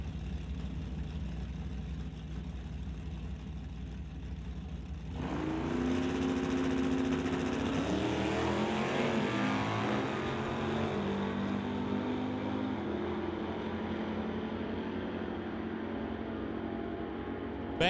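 A wheel-standing Barracuda and a Monte Carlo drag racing at an NHRA Summit ET Series event, with distant engine rumble swelling into a loud sustained roar of launching cars that holds and slowly fades, no voices.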